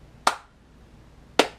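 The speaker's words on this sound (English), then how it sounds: "Nice, slow clap for Tony, everyone." Two slow, deliberate hand claps, spaced about a second apart, sound close and crisp in a quiet room as applause for an event host.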